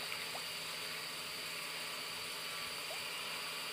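A small electric motor pump drains water from a guppy breeding tank, giving a steady faint hum with a trickling, splashing water sound throughout and no speech.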